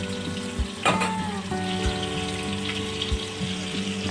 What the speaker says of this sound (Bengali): মাছটা আমার এক পিট হয়ে গেছে তার জন্য মাছটা আমি উঠিয়ে দিয়েছি আর এক পিট আমি ভেজে নেবো